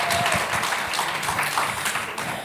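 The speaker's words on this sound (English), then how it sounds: "Could you give them a round of applause?" Conference audience at a media education event gives a round of applause for guests, a steady, dense wash of clapping held throughout.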